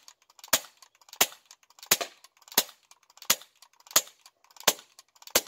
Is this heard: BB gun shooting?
yes